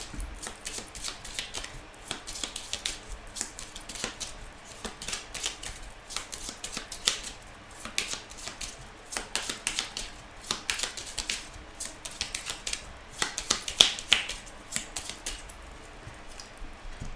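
A deck of Petit Lenormand cards is cut and shuffled, producing a run of quick, crisp riffling clicks and flutters close by, uneven in rhythm and fairly soft.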